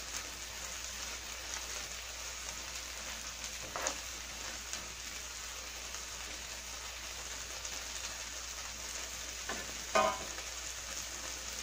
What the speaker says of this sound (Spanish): Vamos a mezclar.